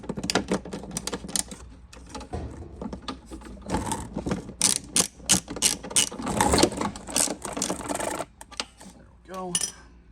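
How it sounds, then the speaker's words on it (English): Metal spring on the rear bag door of a Craftsman lawn mower being adjusted, giving a busy run of close clicks, ratcheting snaps and small mechanical clatter with a few louder knocks, fairly near. "then adjust the spring."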